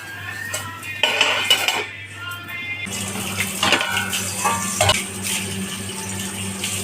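A lid is set down on an appe pan while instant appe cook, giving a couple of short metallic clanks over steady kitchen clatter and faint running water.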